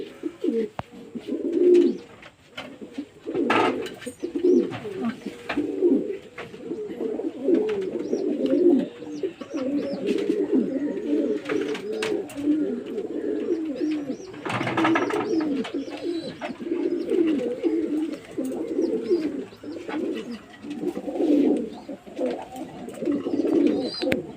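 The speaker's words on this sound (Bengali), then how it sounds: "দেখুন পায়রাগুলো জল খাওয়ার জন্য কেমন করছে বাচ্চাগুলো" Young pigeons coo steadily and close by, eager to drink water. Several soft, overlapping coos throb on through the whole stretch, with a few brief clatters and knocks breaking in now and then.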